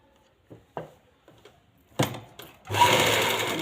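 A sewing machine stitches a lined salwar. A few scattered taps and clicks come first, then the machine runs in a continuous close, buzzing whir.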